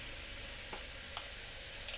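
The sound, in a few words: spices and potatoes sizzling while stirred in a pressure cooker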